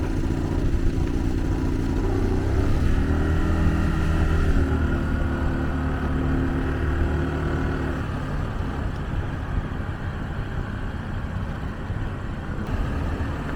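A Honda Navi scooter's small engine pulls away from a stop sign, sounding slightly boggy as it revs up steadily and continuously, close by, with wind and road rumble.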